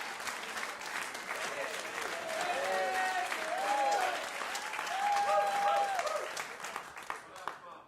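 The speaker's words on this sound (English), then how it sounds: "give a special round of applause for the drummer" An audience applauds a drummer, sustained clapping and crowd noise with cheering voices rising over it, building in the middle and fading toward the end.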